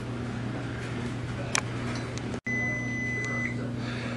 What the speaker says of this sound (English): the timer's going off